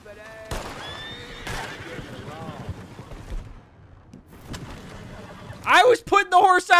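A horse whinnies loudly near the end in the video game Red Dead Redemption 2, with hoofbeats and scattered game sound effects before it and brief speech in between.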